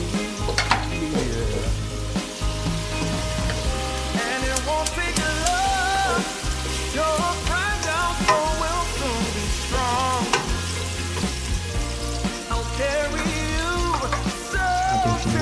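Garlic frying in a pan for sautéed mung beans with beef bones, a loud, steady close sizzle with stirring scrapes and clinks throughout.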